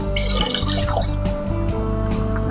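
Water poured into a soup pot, a continuous close splashing fill with dripping and bubbling textures over low kitchen background tones.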